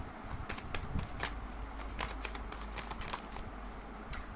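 Tarot cards are shuffled by hand in a steady, crackling riffle that runs close and continuous, with sharper slaps of the deck now and then and no talking.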